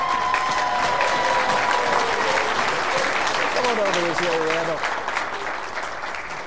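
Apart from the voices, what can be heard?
audience applause for game show contestant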